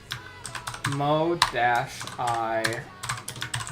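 Fingers tapping on a computer keyboard in uneven bursts of clicks, with someone talking over the keystrokes for much of the time.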